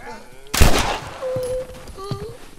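A sharp, loud gunshot-like blast from The Last of Us, followed by fading rumble and electronic tones, with talk around it.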